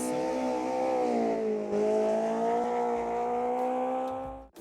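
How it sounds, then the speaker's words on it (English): DTM race cars in a racing video game lapping Kyalami at night, engines roaring loud and continuous with steady high revs that dip briefly mid-way and climb again, alone with no talk. "look at these DTM's drive at night around Kyalami"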